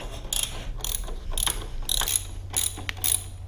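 A ratchet tightening the bolts on a Kawasaki Ninja ZX-6R's rear shock mount: steady, rhythmic bursts of close metallic clicking, repeated about every half second over a faint low hum.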